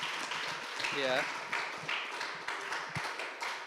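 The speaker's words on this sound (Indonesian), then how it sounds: "kita beri tepuk tangan dong untuk Ibu Ana" At a school event at SMK Karsa Mulia, an audience applauds in a steady, moderate wash of clapping. Talk runs through it, with one short spoken interjection near the start.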